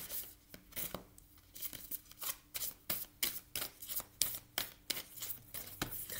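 Tarot cards are shuffled and handled close up in quick, rhythmic papery riffles and slaps, repeating steadily with no talk.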